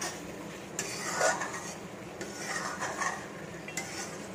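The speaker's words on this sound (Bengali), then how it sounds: "আলুগুলোকে দিয়ে একটুখানি কষাবো" Potatoes stir-fried in a new kadai, repeated spatula scrapes and clatter against the metal over a faint sizzle, close and steady, no speech.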